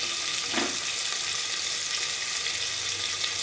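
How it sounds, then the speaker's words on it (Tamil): A constant loud sizzle of lentil water poured into a hot frying pan, bubbling and hissing steadily throughout. "இப்போ பருப்பு தண்ணியை ஊற்றலாம்."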